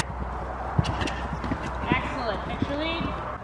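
Horse hooves clip-clop during a jumping session, with several distinct hoof strikes over background noise while people talk.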